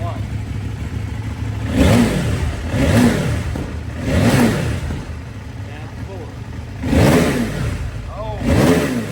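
A 2024 CFMOTO 800NK motorcycle engine fires up and revs in repeated loud surges, dropping back between each blip of the throttle, heard close by.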